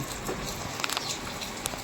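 Rain falling during a wet day in Botad, Gujarat: a dense, continuous patter with scattered sharper drips standing out over the steady wash.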